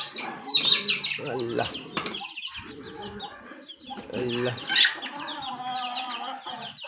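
Three mother hens with their chicks give repeated clucks and calls, close and fairly loud, with a brief wing flutter and a person speaking in between.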